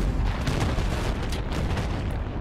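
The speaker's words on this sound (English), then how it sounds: "The debris, the explosions, the sound drenching your senses." A loud, sustained roar of a vehicle explosion in Battlefield 3, blasts and rumbling debris, dense low booms filling the whole stretch without pause.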